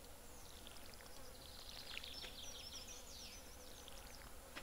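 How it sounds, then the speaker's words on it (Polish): In the Stardew Valley farming game, flies buzz in quick, overlapping whining passes, quiet but continuous above a soft steady hum with no talk. "te muchy znowu denerwujące."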